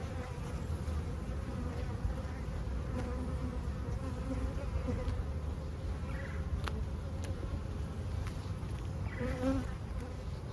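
Honey bees from an overpopulated hive hum in a dense, continuous buzz at close range throughout, steady and unbroken, with no talk.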